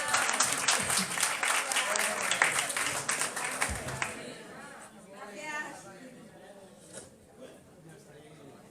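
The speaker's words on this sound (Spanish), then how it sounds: "un aplauso" Applause from a group fills the first few seconds, dense clapping that fades out, leaving quieter room noise and some talk.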